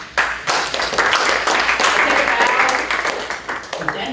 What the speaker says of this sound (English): Everyone claps now.